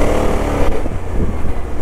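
A BMW C650 Sport scooter's engine runs with a loud, close, throbbing drone, its pulsing rumble dipping briefly and then surging again under load.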